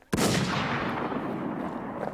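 A single gunshot fires in a multiplayer shooter video game, with a sharp crack followed by a long, booming echo that fades slowly.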